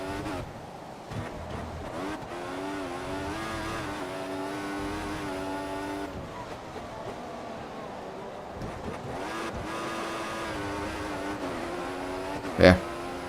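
Formula 1 cars racing at night in the Bahrain Grand Prix in the F1 2014 game, engines droning and shifting pitch steadily throughout, with a sharp brief burst near the end, under a speaking voice.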